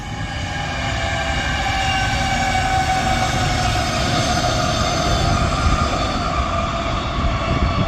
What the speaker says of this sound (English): And here's the train again.